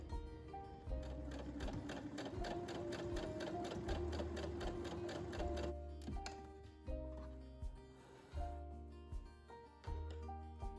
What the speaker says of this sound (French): c'est notre dernière couture, une couture droite qu'on va faire à égale distance que la surpiqûre